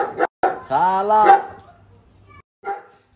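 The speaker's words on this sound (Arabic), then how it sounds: "هذا الكلب لو يسكت يريحني" A dog barks and yips nearby, giving a few sharp, short barks amid quiet household surroundings, while a person speaks briefly.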